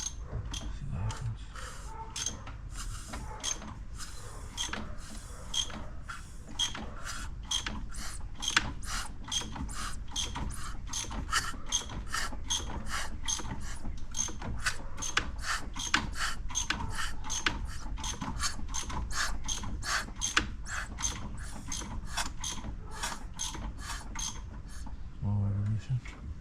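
Ratchet wrench clicking steadily as a BMW 335i engine is turned over by hand after an engine swap, a fast, even run of sharp pawl clicks close by for nearly the whole stretch, with a brief pause near the end.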